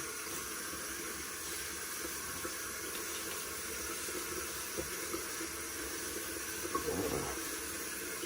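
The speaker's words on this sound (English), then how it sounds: "we're going to use a little warm water" Warm tap water runs steadily into a bathroom sink before shaving, a continuous even hiss and splash with a few small clunks near the end.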